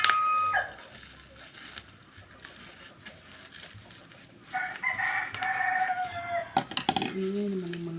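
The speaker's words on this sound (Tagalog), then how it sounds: "Ingay naman yung mga manok guys." Noisy chickens and roosters crowing outdoors at a moderate distance, with a long crow rising in the second half over faint background noise, plus a brief knock near the end.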